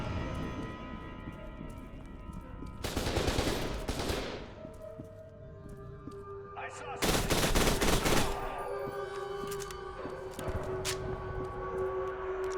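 Gunfire near a chain link fence in the video game F.E.A.R. 2: two loud, dense bursts of rapid shots, one lasting about a second and a later, longer one, over a steady low game ambience.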